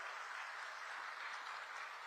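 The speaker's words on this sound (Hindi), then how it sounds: "जोर से ताली बजाओ" A large crowd claps at a BJP political rally in Khunti, a dense, continuous roar of applause heard at a distance and lasting about two seconds with no talk.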